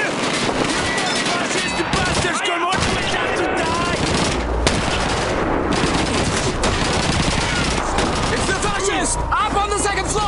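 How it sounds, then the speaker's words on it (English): MG-42 machine gun fire in Call of Duty 2, loud continuous rapid bursts with overlapping shots filling the whole stretch amid battle noise and shouted voices. "machine gun, MG-42!"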